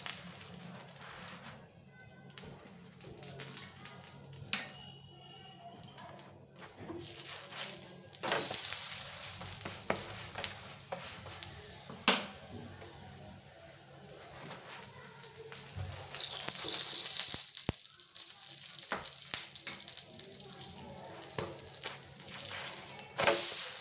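An aloo cheese paratha fries with ghee on a pan, giving a quiet, steady sizzle with occasional scrapes and clicks and brief bursts of hiss, and no one speaking over it.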